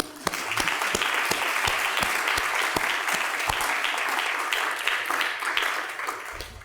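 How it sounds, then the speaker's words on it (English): Warm applause breaks out at a faculty closing dinner, a room of diners clapping steadily with a few louder individual claps standing out, fading slightly at the end. "We're going to give you a round of applause."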